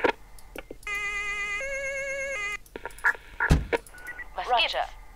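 A police car siren in the video game Emergency 4, a steady electronic wail held for over a second and a half, followed by scattered game effects and chirps, with someone talking in German around it.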